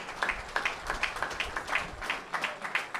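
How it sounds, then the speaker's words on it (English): A small group claps for a Wexford hurling team at a Gaelic masters cup presentation, a short scattered patter of hands, fairly faint and close, with no one speaking. "So a massive round of applause,"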